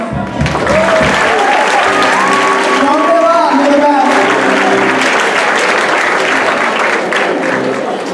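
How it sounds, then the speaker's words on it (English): A loud crowd at a school spring concert applauds continuously, clapping dense and close, with cheering and a few voices calling out over it. "So they can get a round of applause."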